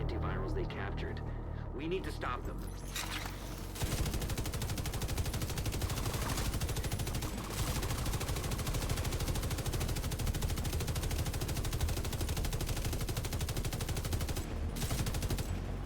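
Sustained automatic fire from the GR-9 light machine gun in The Division 2, a dense, loud rattling burst running almost continuously for most of the clip after a brief quieter opening.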